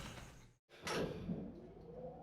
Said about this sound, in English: We watched the doors close.